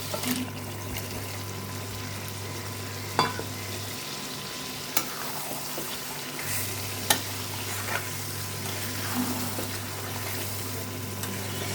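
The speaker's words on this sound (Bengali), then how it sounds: "এবার আমি দিয়ে দেবো লোটে মাছ যেটা ম্যারিনেট করে রেখেছিলাম।" Marinated Bombay duck fish goes into frying spice masala, a steady sizzle with occasional sharp spatula clicks and stirring, a low hum running under most of it.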